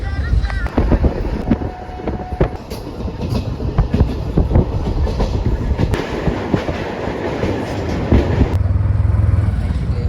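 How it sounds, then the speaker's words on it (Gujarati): Passenger train in motion, heard from inside the carriage: a steady, loud rumble of wheels and rails with rattling clatter and airy wind noise throughout, swelling slightly near the end. "આપણે ટ્રેનમાં બેસી ગયા ને આપણે ટ્રેન ચાલુ થઈ ગઈ"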